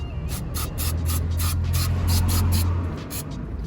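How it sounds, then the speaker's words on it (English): Repeated short bursts of hissing brake cleaner spray onto the front brakes of a Renault Clio 3, steady and close, over a low continuous hum. "just get a bit of brake cleaner on there and just give it a good spray over"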